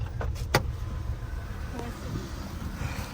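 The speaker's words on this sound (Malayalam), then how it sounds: "അച്ഛൻ മെല്ലെ വണ്ടി ഉരുട്ടി" A car creeps slowly along a road, pushed or rolled by a man, giving a low steady rumble throughout with a sharp click near the start.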